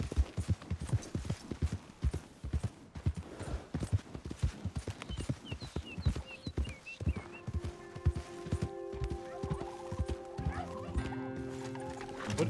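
Hooves clip-clop in a steady, quick rhythm as a horse moves along in Red Dead Redemption 2, with a faint whinny partway through and tonal game sounds swelling toward the end.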